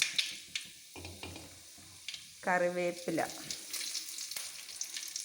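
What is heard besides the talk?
mustard seeds spluttering in hot coconut oil, frying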